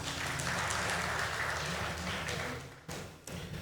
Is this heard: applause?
yes